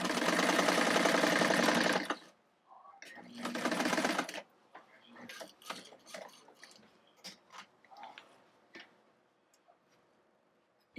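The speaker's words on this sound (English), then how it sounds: "All that's left to do is sew the corner shut" A sewing machine stitches the corner of a denim quilt made from old jeans, sounding as two loud bursts of rapid mechanical clatter followed by softer clicks and handling taps.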